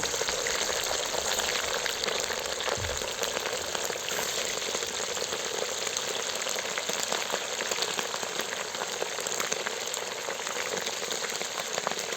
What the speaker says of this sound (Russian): Мясо жарим пару минут. На интенсивном огне этого достаточно.